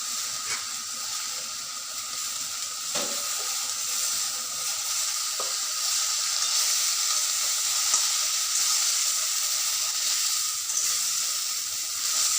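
Fresh coriander leaves, with a few curry leaves, fry in a pan for mint chutney, giving a continuous close sizzle and hiss with a few scraping stirs and clinks, and no talk.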